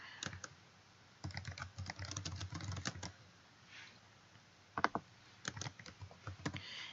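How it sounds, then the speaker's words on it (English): Quiet, close typing on a computer keyboard: several short runs of rapid key clicks with pauses between them. "You just type in a keyword."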